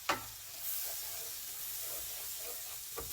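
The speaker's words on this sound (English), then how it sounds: "Make a little roux and thicken this up." Roux of butter and flour sizzling in a pan, a quiet, steady hiss with a soft click at the start and another near the end.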